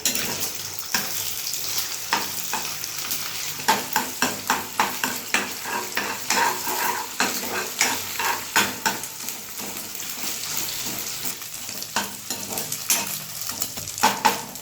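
Beaten egg frying in a hot pan is stirred and broken up with a utensil for egg noodles, producing a continuous close sizzle punctuated by rhythmic scraping strokes against the pan, with no talking.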